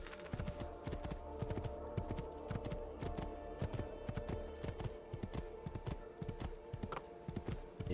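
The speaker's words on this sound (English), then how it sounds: "Actually, randomly steal horse." Horse hooves clip-clopping in the video game Assassin's Creed II, a brisk steady rhythm of close, clear hoofbeats that continues throughout.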